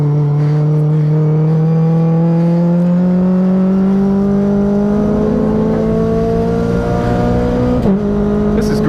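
A Mazda Global MX5 Cup race car roars from the cockpit, its engine note rising smoothly under acceleration before a quick dip near the end as it shifts up, loud and continuous.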